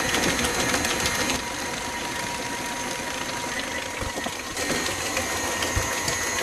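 Electric mixer beating cheesecake batter with eggs, a steady loud whirring drone running throughout with small shifts in pitch and texture as the beaters churn.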